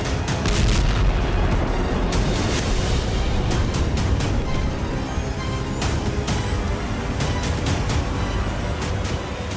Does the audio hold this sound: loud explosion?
yes